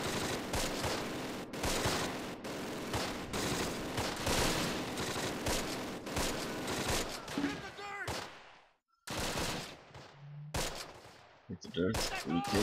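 Machine guns and rifles fire in the World War II strategy game Close Combat: The Longest Day, with dense, rapid bursts of gunfire over most of the clip, broken by brief pauses near the end.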